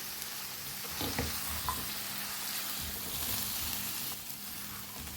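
Powdered spices fry in a pot over medium heat with a steady close sizzle and crackle, and a few soft scrapes and stirring knocks break in over the continuous frying.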